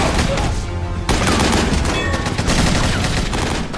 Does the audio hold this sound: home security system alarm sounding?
no